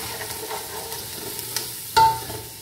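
Dal with red chilli powder, turmeric and salt being stirred and fried in a pan, a low continuous sizzle with light spoon scrapes and one sharper metallic clank near the end.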